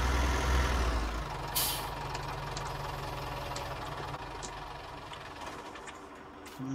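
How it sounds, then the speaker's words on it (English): An old John Deere tractor engine runs at a steady idle on a farm in 1962, a low continuous rumble with a brief hiss of air near the start and faint clanks over the drone. "And there she is, old John Deere, happily working away on that."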